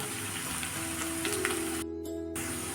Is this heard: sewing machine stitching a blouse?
no